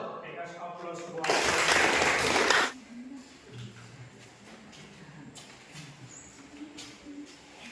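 A short burst of applause from an Indonesian classroom group during a teacher training presentation, a couple of seconds of dense clapping followed by quiet talk.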